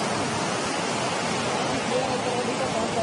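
Jog Falls in Karnataka's Sahyadri hills, swollen after heavy rain, roars as a dense, steady wash of falling water that fills the whole clip without a break.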